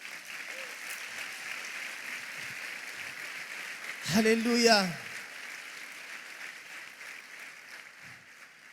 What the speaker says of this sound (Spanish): ¿Por qué no le das un aplauso a Jesús?